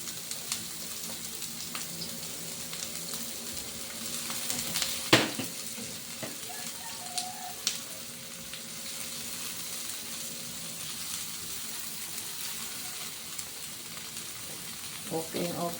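Chopped onion sizzles in hot oil in a frying pan, a steady crackling hiss heard up close, broken by a sharp clank of a utensil against the pan and some light stirring.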